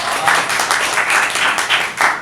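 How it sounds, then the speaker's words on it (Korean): Lecture audience at a film history talk breaks into applause, a dense, steady wash of many hands clapping at close range, continuous for the full stretch with small swells and no voices on top. "박수 한번 해주시죠."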